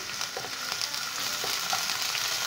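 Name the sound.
chana dal and urad dal frying in oil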